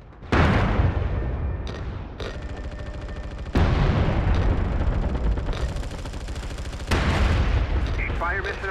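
An artillery fire mission in MAG: loud, heavy booms and rumbling blasts in three big waves, with sustained battlefield roar and a voice speaking over the barrage.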